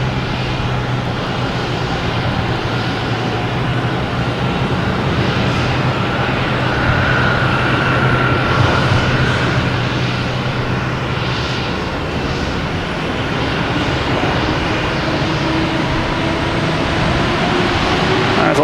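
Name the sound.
United Airlines Boeing 737 MAX 9 taking off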